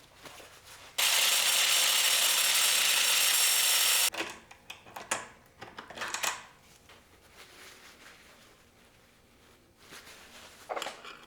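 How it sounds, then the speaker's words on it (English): An old pinion bearing from a Ford 8.8 axle is cut apart, opening with a loud continuous three-second cutting burst, then scattered scraping, clanks and handling noises with pauses. "I'm going to cut this bearing apart now and use this inner piece."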